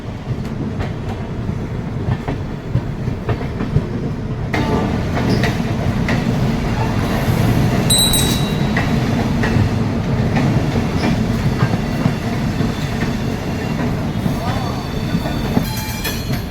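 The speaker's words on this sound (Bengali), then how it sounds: "হাওড়া স্টেশন থেকে ট্রেন ছেড়ে ধীরে ধীরে ট্র্যাক চেঞ্জ করে এগিয়ে চলেছে" The Howrah-Darbhanga Express pulls slowly out of Howrah station and crosses points between tracks, giving a continuous heavy rumble with irregular clickety-clack and occasional brief wheel squeals; faint voices sit low underneath.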